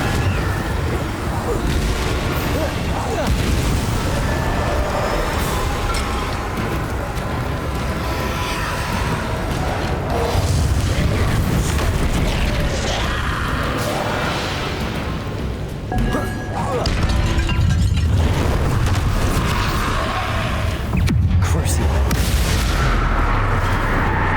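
Blasting spells going off in a Hogwarts Legacy battle against Inferi on Nintendo Switch, a dense, continuous barrage of loud booms and crashes with heavy low rumble, and a bigger burst of impacts near the end.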